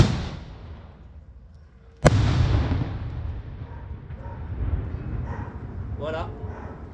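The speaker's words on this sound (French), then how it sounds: "j'ai tiré le coup de canon, il est midi" A noon cannon shot fired in Nice booms out sharply once, loud and close, then rolls into a long echoing rumble while a crowd murmurs in the background.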